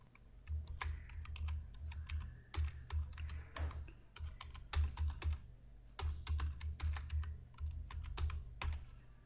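Someone types on a computer keyboard while making a presentation, with quick irregular bursts of close, crisp key clicks and brief pauses between them. No voices are heard.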